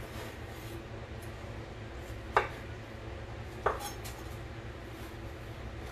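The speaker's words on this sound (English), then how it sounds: "Our cucumber we're cutting. I'm just cutting it into small strips." A knife cutting cucumber into small strips on a cutting board, two distinct knocks against the board a little over a second apart, under a quiet room hum.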